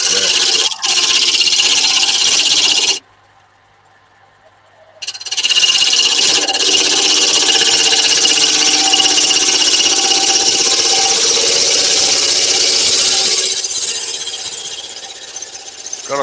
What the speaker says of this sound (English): Got a funny feeling that chisel could be blunt.